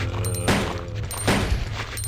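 Bursts of video game gunfire crackle in short volleys, two or three loud clusters of rapid shots over a busy background.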